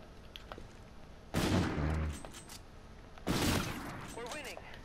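An overpowered gun fires in a video game, with two loud bursts of shots separated by a pause over a quieter background.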